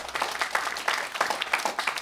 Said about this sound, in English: I don't think I've ever been applauded during a budget speech before.